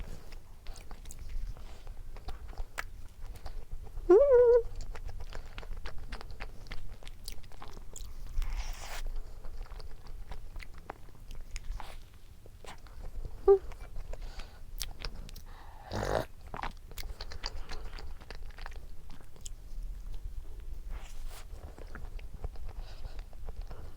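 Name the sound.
chewing corn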